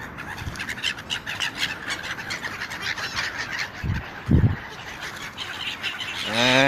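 City birds squawk and call while being fed bread near a street, with a busy chatter of calls, a couple of louder low bursts midway and a rising squawk at the end.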